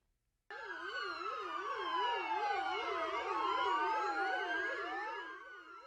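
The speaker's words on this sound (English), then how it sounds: "She was waving to nearly a dozen police vehicles that drove through her street with sirens on" Sirens from nearly a dozen police vehicles driving down a residential street wail and yelp together, overlapping in rising and falling tones, loud and steady after a moment of silence.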